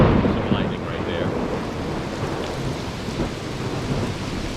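Hurricane Laura in Louisiana brings steady hard rain with wind gusting against the microphone and a low rumble of thunder, a continuous loud roar with no talk over it.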